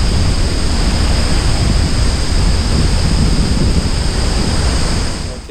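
A Khao Yai Park waterfall in Thailand gives a loud, steady roar of rushing water that fills the scene without pause, close and dense, with wind buffeting the microphone.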